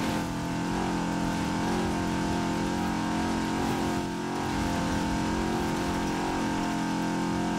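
Engine of a stock 1980 Fiat 124 Sport Spider heard from the interior in Forza Horizon 4, a steady loud drone with gently rising and falling revs and dense harmonics, continuous throughout.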